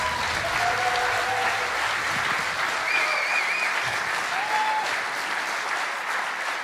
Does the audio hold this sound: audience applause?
yes